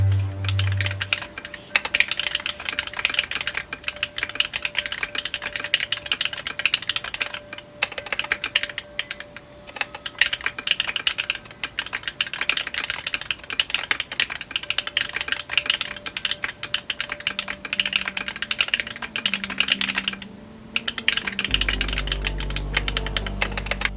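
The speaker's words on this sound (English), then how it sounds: "here's a small typing demo so you can hear how the keyboard sounds" Steady, continuous typing on a Pok3r mechanical keyboard with rapid clacky keystrokes, close and fairly loud, running on without pause; a low hum enters near the end.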